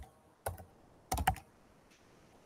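A computer keyboard is typed on to enter the word Arduino. There are two short, close clusters of crisp key clicks with a pause between them, and no voices.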